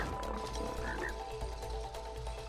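Frog croaking in the video game It Takes Two, a few short croaks over a steady low game background hum.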